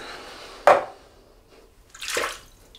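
Water splashes and trickles close by in two short bursts, a sharp splash followed by a softer rinsing swish, with quiet between.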